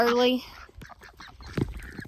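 Ducks being fed on dry ground outdoors before a snowfall give a loud honking quack, then several shorter, quieter calls and scuffling close by.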